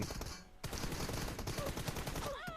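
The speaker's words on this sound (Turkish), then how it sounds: "Havadayken çok iyi mermi atıyor." Dense rapid gunfire in a multiplayer shooter video game, continuous overlapping shots after a brief lull, with whizzing tonal effects near the end, moderately quiet.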